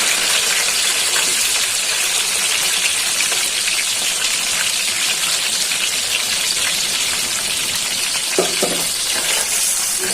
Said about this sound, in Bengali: তেলটা গরম হয়ে গেছে, পেঁয়াজ দিয়ে তেল দিচ্ছি।